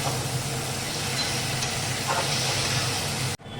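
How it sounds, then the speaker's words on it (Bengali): Masala spices for a mango and rohu fish curry are stir-fried in a wok, giving a steady, close sizzle and hiss with light scraping of the stirring, cut off abruptly near the end. "ভালো করে কষতে হবে যতক্ষণ না কড়াই লেগে লেগে আসছে মশলাটা"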